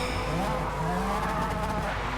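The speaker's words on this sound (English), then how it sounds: "Back on the throttle in 1st gear, into 2nd gear" A BMW race car in Forza Motorsport races near other cars, a loud, dense engine and tire roar throughout, with a faint rising pitch as it pulls through the gears.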